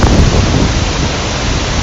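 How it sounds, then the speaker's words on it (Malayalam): Punnayar waterfall in Kanjikuzhy, Idukki, Kerala, roars as a steady, dense wash of broadband rushing water, loud and unbroken throughout, with no voices. "നല്ലൊരു വെള്ളച്ചാട്ടം അമേസിംഗ് വ്യൂ ആണ് ഇവിടെ വന്നിരിക്കുന്നത്"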